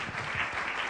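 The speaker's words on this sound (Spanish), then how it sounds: "Si le vamos a dar un aplauso al Señor, que sea bien dado." A church congregation claps together during a service, a dense, steady wash of hand claps filling the full second at moderate loudness with no break.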